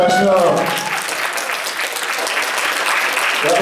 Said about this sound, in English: a big round of applause to all the creators of F.A.T.E.